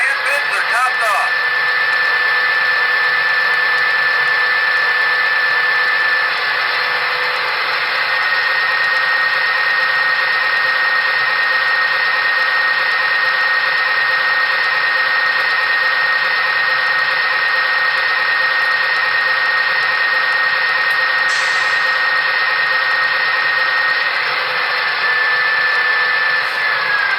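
A MTH HO-scale GE ES44 model diesel locomotive's prime mover sound runs steadily and loudly throughout, a constant droning engine hum with a sustained high whine and little change in level, and no talking.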